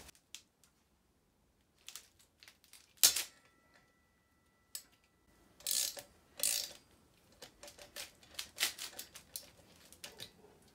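A ratchet wrench loosening brake disc bolts on a KTM Duke motorcycle wheel, bursts of quick close clicking with short gaps between turns and a few sharper knocks, no voices.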